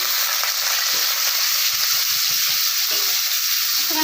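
Snails fry in hot mustard oil in a kadai for a village-style snail and ridge gourd curry, giving an even, close hiss of sizzling that stays steady throughout.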